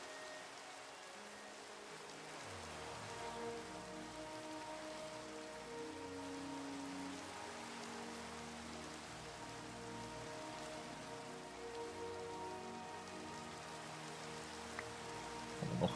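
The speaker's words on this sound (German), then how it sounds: "Hier im strömenden Regen." Pouring rain in the video game Minecraft makes a faint, steady patter and hiss that runs unbroken throughout, with no talking over it.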